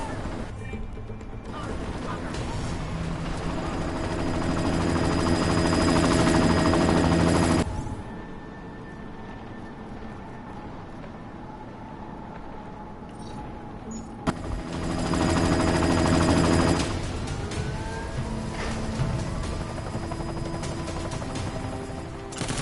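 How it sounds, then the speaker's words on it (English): Helicopter in the video game Deus Ex: Mankind Divided: loud, dense rotor roar mixed with what seems like gunfire, in two long bursts separated by a quieter stretch of lower rumble. "You've got to stop that chopper."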